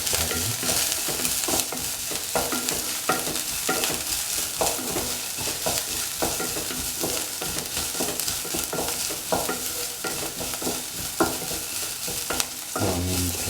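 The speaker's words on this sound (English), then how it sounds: "The onions have to be sauteed until they lose their pinkish color." Onions sauté in a pan for a spicy chicken pasta soup, a steady loud sizzle broken by repeated scraping strokes of a stirring utensil, close up and with no talking.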